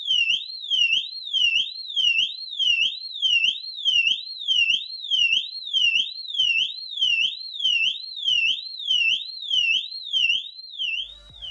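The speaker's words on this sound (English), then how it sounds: "The FS1 produces a siren tone that's very similar to the tone of the Wheelock AES" An Amseco FS1 fire alarm sounder sweeps a shrill, continuous up-and-down siren tone, rising and falling about once a second with a faint low pulse under each sweep, loud and close with no voices.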